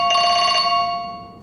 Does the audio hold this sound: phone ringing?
yes